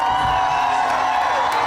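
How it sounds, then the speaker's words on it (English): A lively crowd at Mar-a-Lago cheers and claps through a presidential victory speech, a brief, loud burst of massed voices. "the lively crowd at Mar-a-Lago receptive to the president's victory speech"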